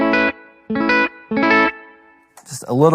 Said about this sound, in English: You can hear it's just kind of a small room plate